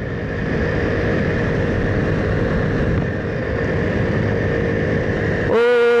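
A Honda C90 small motorcycle engine idles steadily with a constant buzzing drone, then revs up sharply near the end.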